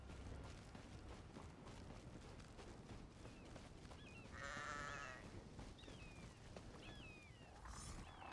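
A goat bleats in Elder Scrolls Online, several wavering cries scattered over a busy low rumble of game ambience, one longer, louder bleat near the middle and shorter ones after.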